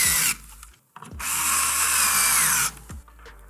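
A power screwdriver drives a screw into a PC case fan during a computer build, with a short whir, a pause, then a longer high-pitched sustained whine close up before it stops.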